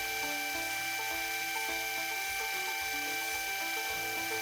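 A belt grinder works the plunge line on a knife blade made from a farrier's rasp, producing a steady high-pitched whine with faint rhythmic pulsing as the steel is ground, continuous and without speech.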